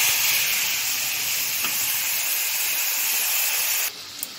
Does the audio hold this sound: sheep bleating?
no